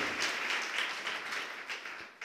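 A church congregation applauds during a Portuguese-language service, a dense, steady wash of clapping that stays fairly quiet and even throughout.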